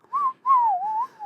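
A person whistles a short tune up close, in clear, pure tones: a brief note, a pause, then a longer gliding phrase that rises and falls.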